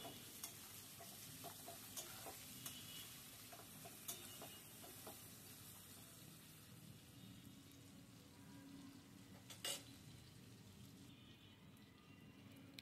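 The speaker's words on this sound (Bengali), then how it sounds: "নেড়ে ছেড়ে পটলগুলো ভেজে নিচ্ছি।" Pointed gourd (potol) fries in hot oil in a pan, giving a steady crackling sizzle with intermittent scraping clicks of stirring, fairly faint and continuous throughout.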